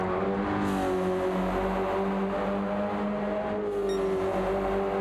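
Subaru BRZ race cars in a racing game at Watkins Glen give a steady, loud engine drone at sustained revs with no gaps and no talking over it.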